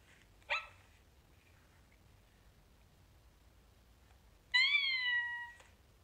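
Two short synthetic meow-like calls, the first brief and the second longer and tonal, separated by quiet; an Aibo ERS-1000 robot dog's electronic voice imitating a cat.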